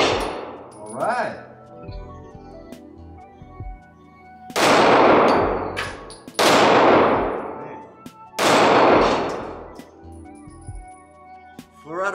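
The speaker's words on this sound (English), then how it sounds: "I'm impressed with my own shooting." Ruger EC9s micro compact 9mm pistol fired at an outdoor target: three loud, sharp reports spaced about two seconds apart, each ringing out with a long echoing decay, with a few faint metallic clinks and quiet movement between shots.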